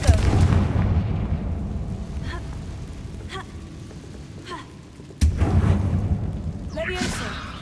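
In Hogwarts Legacy, a Confringo spell explosion hits with a deep rumbling blast that decays slowly, followed by faint spell effects and a second sudden boom near the end.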